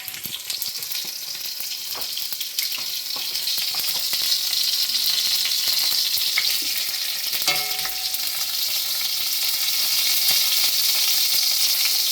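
Mustard seeds and green chili paste sizzle in hot oil, a continuous close crackle with scattered pops and light spatter, no voices.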